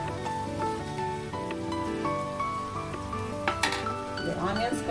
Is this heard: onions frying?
yes